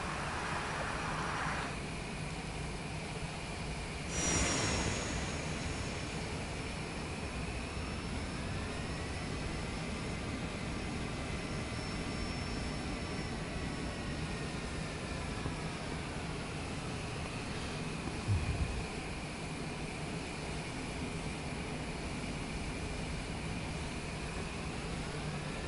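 Jet airliner taxiing in Microsoft Flight Simulator 2024, a steady broadband engine whine and rumble holding level throughout, with a faint rising-then-falling tonal sweep in the middle and a couple of brief bumps.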